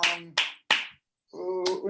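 A few sharp, close hand claps from one person on a video call, coming as separate bursts with short gaps, the last one running into a held tone or voice.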